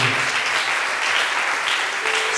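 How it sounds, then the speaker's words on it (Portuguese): A church congregation applauding during a sermon, a full, even roar of many hands clapping together for a couple of seconds. "Aplauda o Senhor em nome de Jesus."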